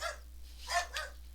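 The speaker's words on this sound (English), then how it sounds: "I don't know if you could hear the dogs barking or what" Dogs barking, two or three short yaps in quick succession, faint and somewhat distant over a low steady hum.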